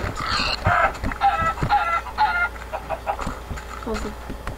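Chickens in the Minecraft video game cluck in a quick series of close, fairly loud calls, with thuddy footsteps and scattered game noises around them and no talking.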